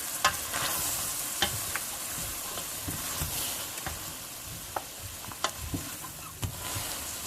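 Pasta fagioli soup cooks at medium heat in a pot, a steady soft bubbling broken by sharp scrapes and clinks of a spoon stirring through it, with no talking.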